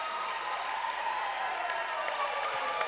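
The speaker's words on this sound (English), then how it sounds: "Plenty of cheers." A crowd at a men's premier league grand final cheers and applauds from a distance, a steady broadband wash of clapping and voices with a few sharper claps standing out, continuous throughout.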